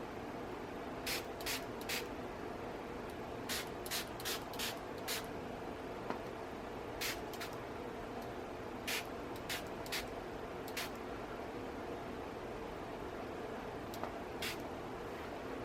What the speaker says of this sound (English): I'm going to spray purple